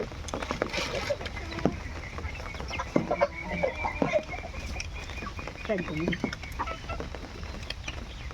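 Chickens cluck and call around a rural home on a rainy day, with several short bursts scattered through the clip over a constant background hum, and some people talking nearby.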